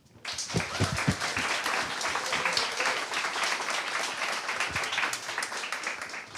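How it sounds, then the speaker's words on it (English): Audience at a design challenge final event gives a big round of applause, a thick, continuous clatter of many hands with a few louder nearby claps and murmured voices, lasting throughout. "A big round of applause."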